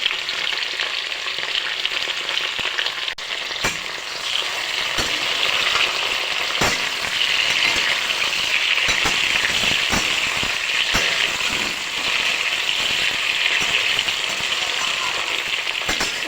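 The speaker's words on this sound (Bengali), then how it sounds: "সঙ্গে দিয়ে দেবো কেটে রাখা কাঁচা লঙ্কাগুলো।" Chopped green chillies fry with sliced potatoes for aloo katliyan, a loud, steady sizzle broken by intermittent scraping stirs and clatters throughout.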